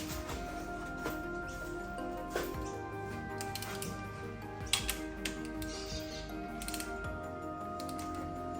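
A torque wrench tightens the cylinder head bolts on a Nissan X-Trail's QR25 engine during a head gasket replacement, giving scattered ratchet clicks and metallic clinks over a low steady hum, close and fairly quiet.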